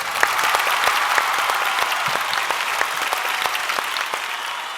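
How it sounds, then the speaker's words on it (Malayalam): A studio audience applauds loudly and steadily, many hands clapping in a dense, continuous patter for the whole stretch. "വലിയൊരു കൈയടി കൊടുക്കാം"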